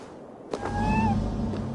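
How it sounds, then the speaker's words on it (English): A cat perched high on statues in the Assassin's Creed video game gives one drawn-out, rising-and-falling meow after a soft thump, close and clear, alone without talk. "Who put you up here, little cat?"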